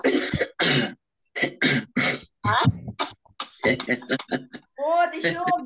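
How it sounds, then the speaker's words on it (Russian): During a laughter-breathing exercise a group clears their throats and coughs repeatedly in short, loud bursts, with a voice talking in between. "давайте откашляем, если еще что-то осталось"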